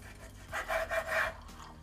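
A knife slices cold cooked meat into finger-thick pieces for a traditional meyhane meze. Three slow, rasping cutting strokes sound close and fairly quiet, with no talking.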